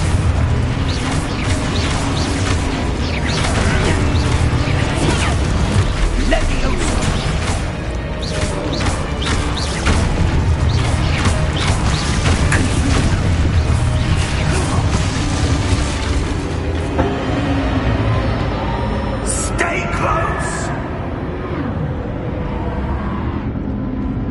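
Expulso and Confringo spells detonate in the Hogwarts Legacy video game on PS5, a dense, loud run of booming blasts and crashing debris over a constant game soundscape, with a brief quieter patch near the end.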